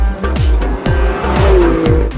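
An Alfa Romeo Giulia GTAM driven hard on a track, engine revs rising and dropping in quick repeated shifts, with a brief tire squeal, loud and close, no talking.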